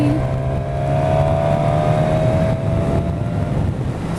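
A Suzuki Katana motorcycle engine drones steadily while the bike is ridden, with a loud continuous hum under heavy wind buffeting against the microphone and no voices.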